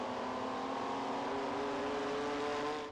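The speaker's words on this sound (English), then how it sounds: "Those lovely classic Porsche noises that we can hear in the background there." Classic Porsche race cars roar past at a circuit meeting, a dense, loud engine blare with rising and falling pitch that holds steady for about three seconds before cutting off abruptly.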